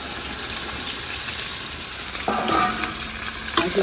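Sliced okra and thin strips of ginger fry in a pan with a soft continuous sizzle, then a louder burst of crackling and stirring clatter near the end, with no one talking.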